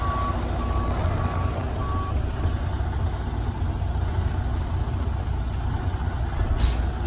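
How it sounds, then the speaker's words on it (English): A heavy truck idles and rolls forward a few feet for a service brake check, low engine rumble while a reversing beeper chirps in the background, then a brief hiss of air brakes near the end. "I will pull forward 3 to 5 feet to check my service brakes."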